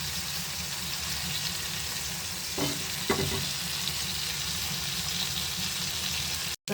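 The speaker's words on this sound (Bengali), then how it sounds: "কড়াতে মাছের মাথা আর মাছের মাথার সঙ্গে কিছু কাটা কুটা এটা ওটা ভাজি করলাম।" Fish heads and scraps fry in a kadai with a steady, moderately loud sizzle, broken by a couple of short scraping stirs in the middle and a clunk at the end.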